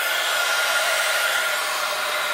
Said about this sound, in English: And then I'm just going to heat up my heat tool.